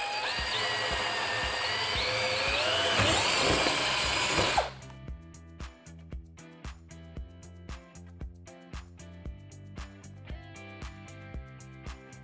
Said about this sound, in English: As you're drilling the hole right here, do not let the hole cross the line.